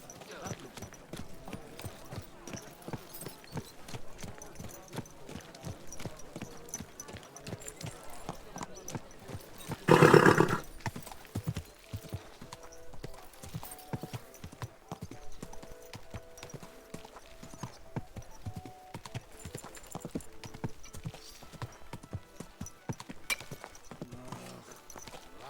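Horse hooves clip-clopping in the video game Kingdom Come: Deliverance II, a steady faint rhythm under game music and voices, with a louder burst partway through.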